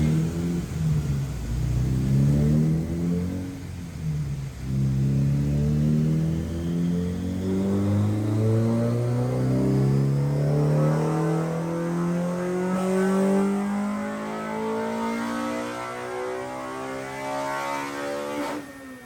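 A Honda B16A engine with CTR pistons and an ITR cam revs on a dyno in one long sustained pull, its loud, close engine note rising steadily in pitch up toward 8,500 RPM.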